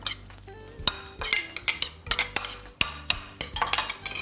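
Seasoned chicken tossed with dressing in a bowl, a utensil scraping and clinking against the dish in quick irregular strokes, close and fairly crisp, with no talking.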